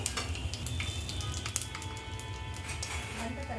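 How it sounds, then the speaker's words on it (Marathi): Bay leaves and whole spices frying in oil for a prawn rice dish, a steady, soft sizzle with faint clinks from a spoon in the pan. "दोन तेजपत्ता आणि हे खडे मसाले हे सर्व आपण तेलामध्ये परतून घेऊया"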